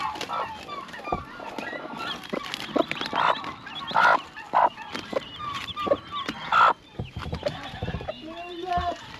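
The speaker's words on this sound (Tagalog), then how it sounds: "Dito po, oh, may manok tayo na naglimlim." A brooding hen sitting on eggs clucks and croons in short bursts nearby, with a few louder squawks, while a person talks intermittently.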